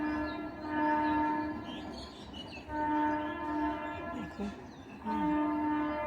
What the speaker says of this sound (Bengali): ট্রেন যাচ্ছে, ট্রেনের আওয়াজ হচ্ছে,